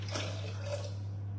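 Water poured into a Thermomix bowl, a faint, steady splashing stream over a low constant hum, lasting about a second and a half with no talking.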